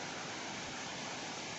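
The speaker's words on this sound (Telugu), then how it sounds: "చూసారా ఫ్రెండ్స్, వాటర్ ఎలా ప్రవహిస్తుందో" Water flows in a steady, dense rush like a stream or small waterfall, a constant hiss heard close up with no break and no talking.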